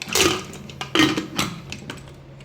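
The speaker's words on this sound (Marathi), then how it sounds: "आता कुकरला झाकण लावून घेऊया" Metal lid fitted onto a pressure cooker and locked shut, a few close clanks and scraping clicks in quick succession, then quieter fumbling.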